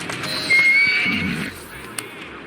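A horse in the video game Assassin's Creed Syndicate whinnies close by, a high wavering neigh, with faint hoof clops and a brief knock in the background.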